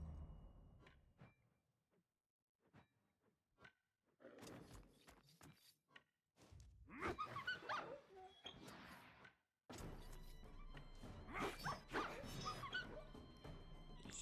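Dogs bark, yip and whimper during combat in the video game Wartales, with short sharp barks at first and denser snarling bursts later, mixed with battle sounds at moderate volume.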